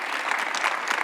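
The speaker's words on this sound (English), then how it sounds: "Can we clap for them?" Brief burst of audience applause for panel speakers at a women's economic power panel, dense clapping from a crowd without pause.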